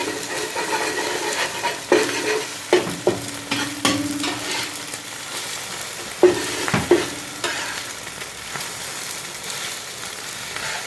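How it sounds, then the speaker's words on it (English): Teochew-style oyster omelette frying in lard, stirred and broken into pieces: a constant sizzle broken by sharp metal-on-pan scrapes and knocks, some clustered together and others spaced apart. "Okay, we can stir the thing. Break it up into bigger pieces first."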